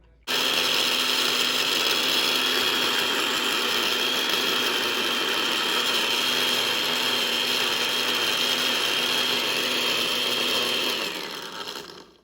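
A blender purees salsa with jalapenos and Rotel in a continuous loud, steady whir lasting about eleven seconds before spinning down, close by with no talking.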